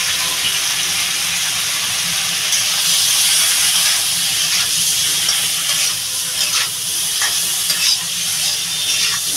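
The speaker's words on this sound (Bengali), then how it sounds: "আলু আর সিমটা ভালো করে একটু কষিয়ে নেব" Potatoes and flat beans fry with cumin powder, turmeric and salt in a pan, giving a loud, steady hiss and sizzle with faint stirring scrapes throughout.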